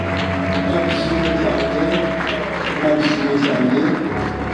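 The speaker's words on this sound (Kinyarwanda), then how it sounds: "Reka dukomere amashyi abageni bacu basa neza" Wedding guests applaud the bride and groom in a steady, dense wash of clapping from a crowd that carries on for several seconds with a low murmur beneath.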